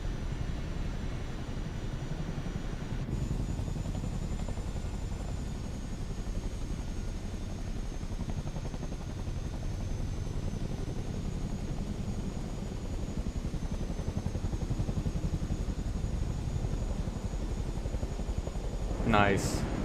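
Helicopter rotors, including Chinooks, in Microsoft Flight Simulator 2024: a steady, continuous rotor and engine drone holding at moderate level throughout, with a faint high whine over it.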